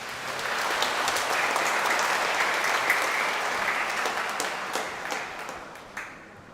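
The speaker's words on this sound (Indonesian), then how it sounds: "kita beri tepuk tangan." A congregation applauds inside a Catholic church during a Pentecost mass, a full round of clapping that holds steady, then thins and fades toward the end, slightly reverberant and without talk.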